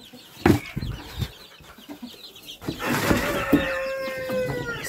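Several chickens cluck and squawk nearby with some wing flapping, while other sounds shift in the background; no one speaks.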